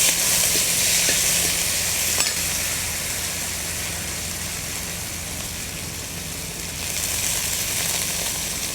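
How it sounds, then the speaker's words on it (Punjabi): Long-sliced onions fry with cumin seeds in a pan, giving a continuous loud sizzle with scraping stirring strokes over it, a sharp knock early on and the hiss swelling again near the end. "ਇਹਨੂੰ ਆਪਾਂ ਚੰਗੀ ਤਰ੍ਹਾਂ ਭੁੰਨ ਲਵਾਂਗੇ ਪਿਆਜ਼ਾਂ ਨੂੰ"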